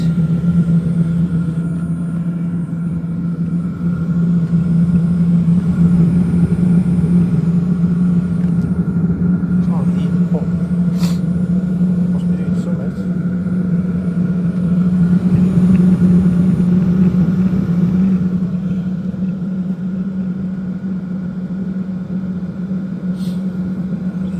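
A diesel heater running steadily after being primed and plugged back in, giving a continuous low droning hum with a faint fan whir throughout, fairly loud and even with a slight swell in the middle.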